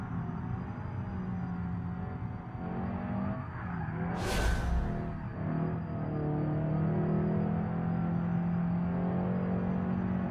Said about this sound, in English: I hear stuff like squealing and stuff in the car